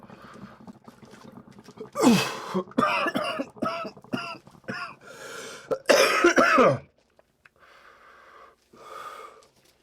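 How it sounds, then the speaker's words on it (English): Rough, wheezy coughing fits up close, several hacking bursts with gasping breaths, then fading to quiet breathing and a faint last cough. "I'm sorry for all the coughing."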